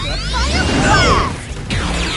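A Digimon's Fire Blast attack in the game Digimon Story Time Stranger, a loud, sustained roaring whoosh with bright swirling tones and a crashing burst, easing briefly before flaring again at the close.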